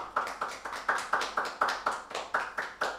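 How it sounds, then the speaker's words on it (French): A small church congregation claps in a steady, even rhythm, about three claps per second, moderately loud with no voices over it. "quelqu'un peut donner réellement une offrande d'acclamation à Jésus-Christ"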